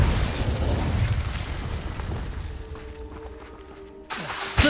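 Confringo fire spell from Hogwarts Legacy going off in a sustained loud fiery blast of bursting booms, fading toward the end before another sharp burst hits.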